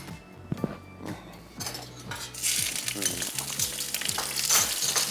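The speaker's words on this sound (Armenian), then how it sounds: "Ծովախեցգետինը տապակում ենք" Shrimp fry in olive oil in a pan with a steady sizzle that swells and grows brighter partway through, while utensils scrape and clink against the pan and dishes, close and continuous.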